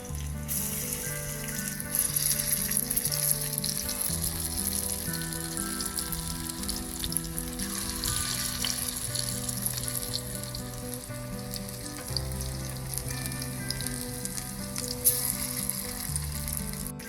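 Cauliflower pieces deep-fry in oil for cauliflower chili, giving a dense, even sizzle that holds steady throughout, with light bubbling crackle under continuous background music.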